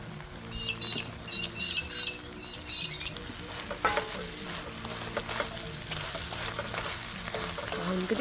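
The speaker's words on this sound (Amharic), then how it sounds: "ሽንኩርቱ ትንሽ አብሮ እንዲጠበስ አደርጋለሁኝ" Onion and cabbage sizzle steadily in a pan, with stirring scrapes and soft patter throughout, moderately close and fairly loud, no voices.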